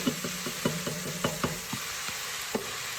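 Vegetables sauté in a stock pot with a bay leaf and vegetable stock, a steady low sizzle broken by repeated scraping and knocking of a spoon stirring against the pot, close and moderately loud with no talking.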